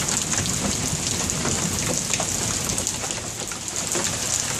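Heavy storm rain pours steadily in Texas, a dense continuous hiss of drops on surfaces with no breaks, loud and close throughout, with faint low rumbling underneath.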